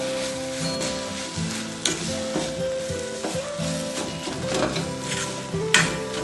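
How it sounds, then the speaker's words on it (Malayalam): Shredded chicken with onion and green chili fries in a pan, a dense close sizzle broken by repeated metallic scrapes and taps of a spoon stirring against the pan, with no talking. "നന്നായി ഇതൊന്ന് ഇളക്കി നല്ല പാനിൽ ഇതൊന്ന് നല്ല പൊരിയിട്ട്"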